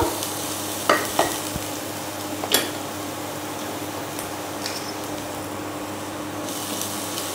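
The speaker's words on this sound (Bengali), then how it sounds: "এবার একটু ভেজে নেব।" Baby corn frying lightly in a pan for an Indo-Chinese chili starter, a steady soft sizzle with a few sharp stirring clinks and scrapes near the start, no talking.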